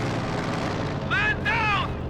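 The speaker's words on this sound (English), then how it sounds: "Mortar rounds going down." Mortar rounds exploding in the Company of Heroes 2 video game, a dense rumbling battle din running throughout under a steady mix of game effects, with two short rising whistling tones near the end.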